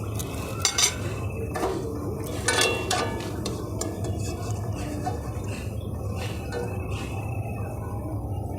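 Utensils clinking and scraping against a pan as crisp fried potato sticks are lifted out of hot oil, with light metallic taps and clatter over a soft background hiss.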